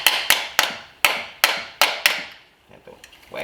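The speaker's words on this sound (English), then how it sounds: "have to whack it some more" Sharp metallic hammer blows strike a stuck part during engine removal on a 2016-2021 Honda Civic Si, seven strikes in an uneven rhythm, loud and close, then quieter fumbling taps.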